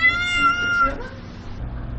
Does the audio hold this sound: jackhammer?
no